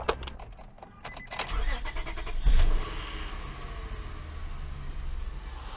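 A car engine cranks and catches, a brief burst of starting noise that settles into a steady idle, heard up close.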